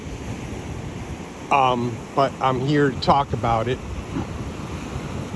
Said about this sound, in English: These are little baby waves compared to that